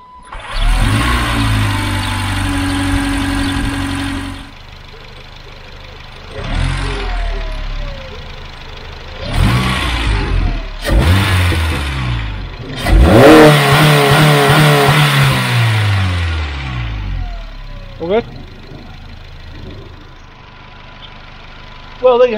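A facelift Honda CR-Z fitted with an HKS Racing Suction intake kit starts, idles and is blipped several times, sharp rising revs separated by quieter idle, with one long sustained rev near the middle; loud and close.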